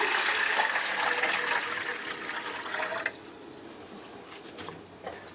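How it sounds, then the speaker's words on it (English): Water is poured into the reservoir of a Nescafe Alegria coffee machine, first as a loud, steady splashing stream for about three seconds, then softer trickles and a few drips. "now I'm going to put some water in here"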